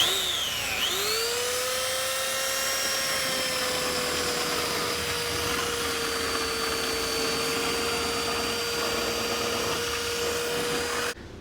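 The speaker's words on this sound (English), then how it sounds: "Belt sander works great." A belt sander grinds down a chunk of fiberglass on a skiff being restored, a loud, continuous whine and roar close by, its pitch dipping briefly as it bites in and then holding steady until it cuts off.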